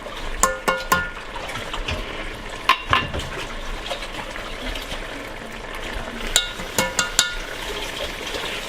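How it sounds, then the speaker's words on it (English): Green chili going into a big pot of chicken chili, with scattered metallic clinks of utensils against the pot and soft wet sloshing, close and moderately loud, with no talking. "And in this order, we now put in the green chili."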